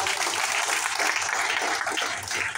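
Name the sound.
loud audience applause for team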